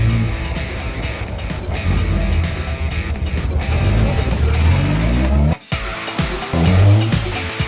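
A car driving hard with tires squealing and the engine revving, loud and close, with a brief dropout before the skidding and engine noise resume.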